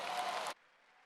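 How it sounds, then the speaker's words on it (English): A graduation audience at a high school commencement claps in a dense, loud burst that cuts off abruptly about halfway, leaving only faint room tone afterward. "let's give them all a round of applause"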